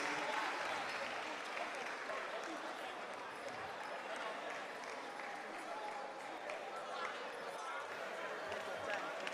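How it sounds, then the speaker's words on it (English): Audience clapping for Kumasi Academy at the NSMQ 2025 Ashanti Regional Championship finals, a school quiz competition; fairly distant, even applause with crowd chatter and voices mixed in throughout. "a round of applause to Kumasi Academy"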